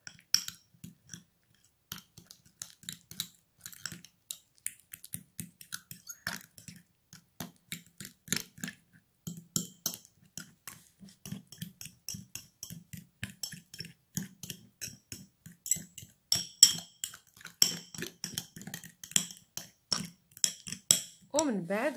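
A spoon stirs mashed banana and two spoonfuls of rosemary together for a hair mask, making soft repeated clinks and scrapes against a bowl at a steady, irregular pace, fairly quiet and close, with a brief voice near the end.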